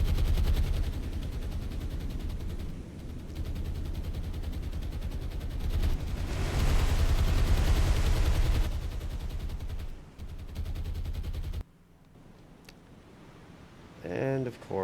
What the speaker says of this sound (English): Wow, something big's firing at me. Those are big splashes too.